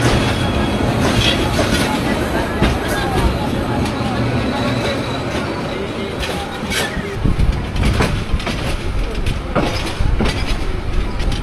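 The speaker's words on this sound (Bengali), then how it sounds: "10টা 20-এই গফরগাঁও স্টেশন থেকে আমাদের ট্রেন ছেড়ে দিল" A Tista Express passenger train pulling out of Gafargaon station in Bangladesh, with steady rolling rumble and wheel clatter heard from inside the coach, rhythmic clicks rising toward the end, under faint background voices.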